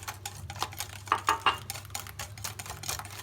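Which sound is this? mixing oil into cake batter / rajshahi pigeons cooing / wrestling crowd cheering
mixing oil into cake batter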